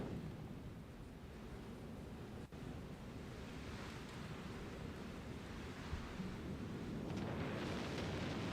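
Steady storm noise from the Star Citizen video game, a broad constant roar of wind and rain with a deep rumble underneath, even and unbroken at moderate level with no talking.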